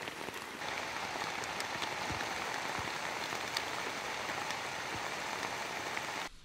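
Continuous rain pours through a forest, a dense, even hiss of drops striking leaves and surfaces close by, with a few louder individual drips and no speech.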